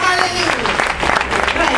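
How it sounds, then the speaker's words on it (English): Church congregation applauding during a healing and deliverance service, a loud, dense wash of clapping over music and crowd noise, with a voice faintly underneath. "Give him a round of applause."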